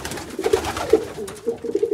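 Pigeons coo softly in an aviary in several short, low, throaty calls over about two seconds against a quiet, muffled background.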